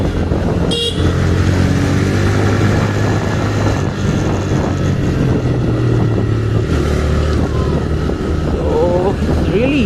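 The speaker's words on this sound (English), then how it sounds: "So the exhaust note is damn good on this one." A TVS Raider 125 motorcycle is ridden with a steady, droning exhaust note and wind noise, a brief horn-like toot early on, and someone talking over it.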